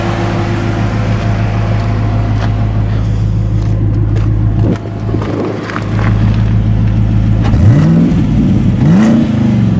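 A V8 engine in a Jeep Wrangler idles with a deep, lumpy rumble, dips briefly, then is revved up twice, the pitch climbing and falling with each loud blip.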